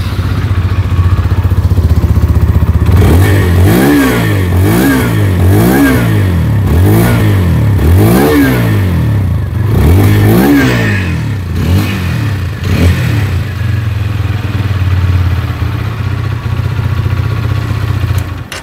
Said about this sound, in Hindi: अब सुन लेते हैं इस वाले बाइक की एग्जॉस्ट नोट आपको कैसे मिलती है।